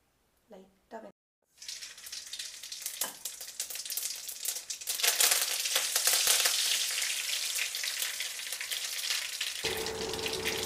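Mustard seeds and curry leaves hit hot sesame oil and burst into a loud, steady sizzle and crackle that holds to the end, after a few short spoken sounds at the start.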